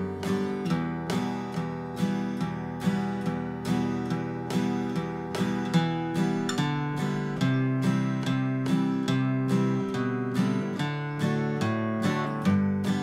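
Acoustic guitar plays an easy, relaxed strum of a song in G without a capo, adding walk-down bass notes in an even, bright rhythm.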